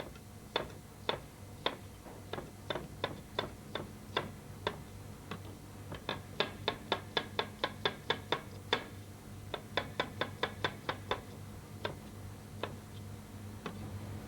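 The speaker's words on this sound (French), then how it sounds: "On va émincer les oignons." Onions being finely sliced with a knife on a cutting board in a professional French kitchen, making a steady series of sharp, crisp chops, near and distinct, with short pauses between runs.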